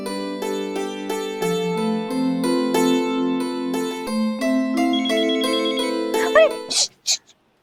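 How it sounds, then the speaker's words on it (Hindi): A melodic electronic phone ringtone plays a steady sequence of tones, then ends with a few brief bursts of noise as it is cut off. "तेरे पास फोन आ गया।"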